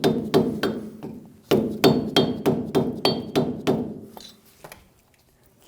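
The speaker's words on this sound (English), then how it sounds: "Using a screwdriver or a flat chisel and a hammer, remove the dust cap." Sharp hammer taps on a chisel prying the wheel hub dust cap off a 2005-2015 Toyota Tacoma, about a dozen close metallic strikes in a steady rhythm that slows and fades near the end.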